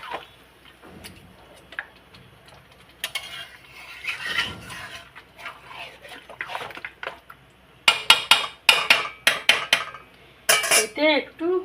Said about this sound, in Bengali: মাংসটাকে এবার ভালো করে কষাবো।